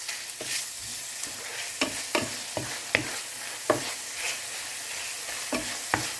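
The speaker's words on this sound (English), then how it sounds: "In a heated pan with cooking oil, put the minced pork." Minced pork frying in cooking oil in a heated pan: a constant close sizzle with repeated sharp scrapes of a spatula stirring the meat in an uneven rhythm, with no talking.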